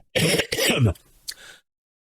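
Two harsh, loud coughs close together, followed by a softer throat-clearing rasp, then silence.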